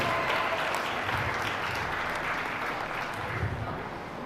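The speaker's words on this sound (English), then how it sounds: "Give them a round of applause." Audience applause at a youth livestock goat show, steady clapping from a crowd that holds evenly throughout, fairly loud and continuous with no talk over it.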